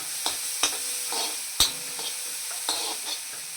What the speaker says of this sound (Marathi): दोन चमचे तेल टाकलेले त्यावर कांदा असा गुलाबी रंग येईपर्यंत परतून घेऊया